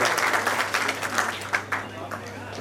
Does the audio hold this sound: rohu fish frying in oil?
no